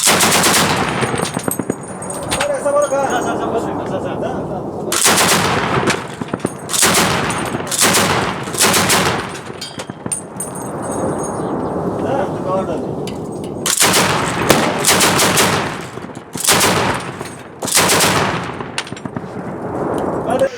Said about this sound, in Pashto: د درنو سپکو وسلو ډزې د دواړو لورو ترمنځ تبادله شي